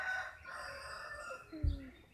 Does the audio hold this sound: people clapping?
no